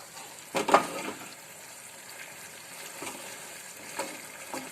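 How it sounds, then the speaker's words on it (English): Vegetable rice gravy cooking on a high flame, giving a low, soft frying sizzle with a couple of brief stirring knocks near the start, quiet and close, no talk. "So now give it a stir on high flame."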